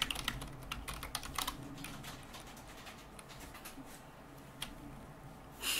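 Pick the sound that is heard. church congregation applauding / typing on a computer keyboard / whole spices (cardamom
typing on a computer keyboard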